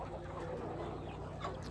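Chickens cluck softly inside a shed, their brief murmuring calls coming over a low steady hum.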